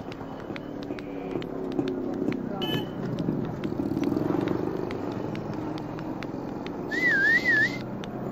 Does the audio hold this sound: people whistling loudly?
yes